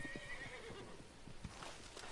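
A horse in Red Dead Redemption 2 neighs, and its whinny is joined by clip-clopping hooves, all fairly faint and under a low background wash.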